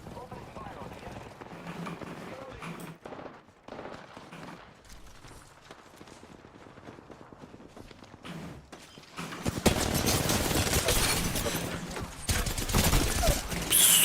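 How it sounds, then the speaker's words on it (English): Bursts of video game shooter gunfire, scattered shots early, then a loud sustained volley filling the last few seconds, with a voice talking over the quieter opening stretch. "Opening fire on the enemy."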